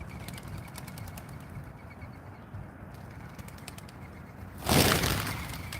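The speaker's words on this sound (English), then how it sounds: "I love those birds." Birds, likely pigeons or doves, arriving to feed at sundown, with soft cooing and a sudden loud flurry of flapping wings near the end over steady outdoor background noise.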